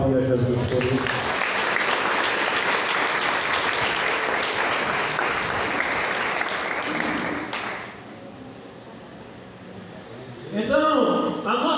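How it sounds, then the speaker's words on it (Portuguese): A church congregation breaks into loud, sustained applause for several seconds, then it fades away and a voice begins speaking near the end. "Você pode aplaudir a Jesus por isso?"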